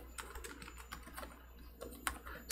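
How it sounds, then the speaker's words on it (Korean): Quiet typing on a computer keyboard while entering C program code: irregular clicks and taps in short bursts and pauses, close and soft, with no speech. "그러면 한번 얘도 타이핑을 해보도록 하죠."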